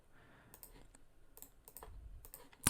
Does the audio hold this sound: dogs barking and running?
no